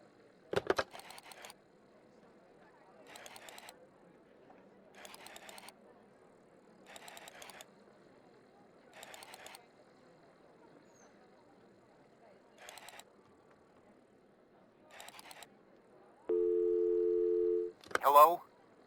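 Telephone being dialed in the video game Kujlevka: a series of short mechanical bursts repeating every couple of seconds, like a rotary dial turning and returning, followed by a steady tone and a brief ring at the end.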